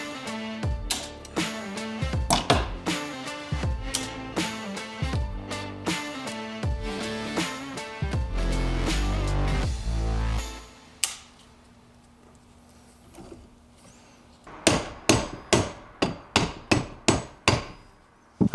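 Sharp metallic hammer taps and clicks ring out in uneven bursts as snap rings are fitted onto the main and cluster shaft bearings of a Toyota W56 manual transmission, with a steady hum midway and a rapid run of taps at the end.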